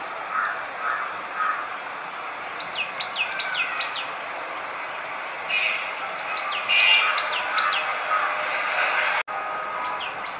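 Prinia birds calling around a nest in the wild while feeding their young, thin high chirps in short bursts over a steady background hiss, with no talking.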